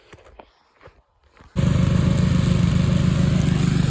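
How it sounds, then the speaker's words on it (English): An old Husqvarna lawnmower, at least 35 years old, catches after some quiet handling and fumbling noises, then roars into a loud, steady, close running drone. "Maybe I'll see if I can fire up the old Husqvarna."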